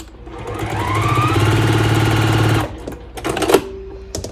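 A sewing machine stitching quilt table runner fabric runs in a steady, fast mechanical whir for about two and a half seconds, then stops, followed by brief handling clatter and a short tone.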